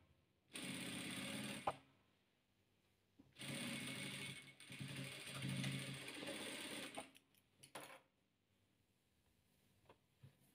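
A sewing machine stitches patchwork squares together in two long continuous runs separated by brief pauses, with a short third burst near the end. The stitching is close and steady, and there is no talk over it.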